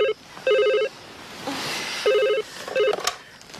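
A telephone rings at a police station in four electronic trilling bursts of a bell tone, each under half a second, with quiet gaps and a brief voice between them.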